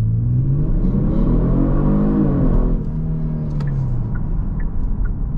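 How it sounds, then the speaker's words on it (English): A 2022 Genesis G70 rear-wheel-drive car accelerates hard in sport mode, its engine rising steadily in pitch as it revs, then dropping briefly at a gear change before climbing again, heard loud from inside the cabin. "Let's go ahead and do another acceleration right here in sport mode, but I'm not gonna brake boost it."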